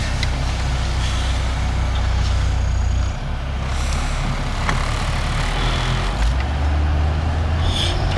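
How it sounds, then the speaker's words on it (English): A Toyota Supra driving on a road in Japan, heard as a steady low engine and road rumble from inside the car, continuous and fairly loud, with no talking. "But we're driving a Supra, which is super crazy just to think about it."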